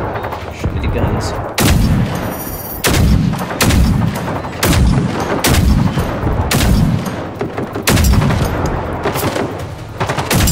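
Gunfire in the shooter game Generation Zero: a rapid run of loud, close shots in clustered bursts with short gaps between them, lasting the whole stretch, with faint voices in the background.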